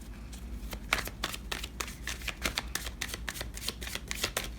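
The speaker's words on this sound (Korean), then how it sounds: "3번째 카드 뽑도록 하겠습니다." Tarot cards are shuffled in quick, crisp riffles and slides, a steady run of soft papery flicks close by with no talking.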